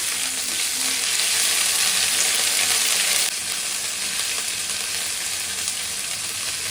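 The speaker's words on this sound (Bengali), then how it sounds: "এখন এগুলো একটু কষিয়ে নেব" Ginger, garlic and mustard pastes fry in hot oil for a mango chutney, a steady, dense sizzle that stays loud throughout and drops slightly in level midway, with no voices.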